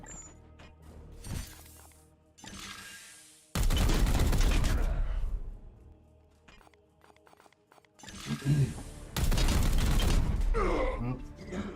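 Bolter gunfire in the video game Warhammer 40,000: Chaos Gate, loud heavy bursts of rapid shots with crashing impacts, separated by quieter game sounds and a brief voice.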